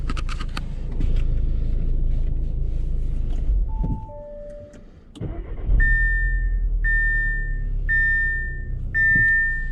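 An Audi TTS blind spot monitor sounds a few clean, repeated electronic warning beeps inside the car, evenly spaced and clear over a low engine rumble, with no one speaking.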